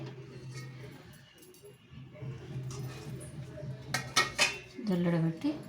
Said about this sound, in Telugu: నీళ్ళ గిన్నె పెట్టి